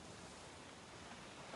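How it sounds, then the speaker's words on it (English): Sea waves from the Umineko When They Cry visual novel game, a steady broad wash of surf roaring evenly and quietly without breaks or voices. "The sound of waves flows into my ears."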